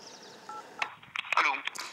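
A telephone number is dialed on a keypad, giving a quick run of short beeping DTMF tones mixed with faint, brief speech sounds, close and moderately loud.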